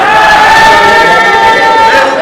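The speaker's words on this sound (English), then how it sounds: "A round of applause for her." Loud crowd noise with cheering at the Shape the Future 2021 event, a sustained roar carrying some tonal voices throughout.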